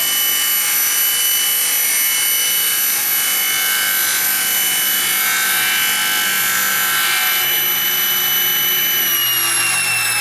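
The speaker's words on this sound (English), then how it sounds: "Cut through the dowel." A power saw cuts through a wooden dowel with a constant high whining rasp that runs loud and unbroken throughout, its pitch shifting slightly near the end, close up with no voices.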